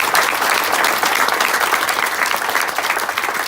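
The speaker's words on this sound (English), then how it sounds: "So please give a round of applause to Governor Pritzker for that." At the Shawneetown Port groundbreaking, an audience gives sustained applause for Governor Pritzker, a dense, even wash of many hands clapping that holds steady for several seconds with no voices over it.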